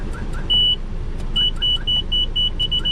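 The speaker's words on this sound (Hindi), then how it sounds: "अब जितना हमने उधर घुमाया था स्टीयरिंग, उतना ही फिर से पीछे घुमाना है और फिर इसको पीछे जाने देना है ऐसे।" A car reversing slowly in a tight space sounds a repeated electronic reverse-warning beep in an even rhythm over a low, steady engine hum, heard close from inside the car with no talking.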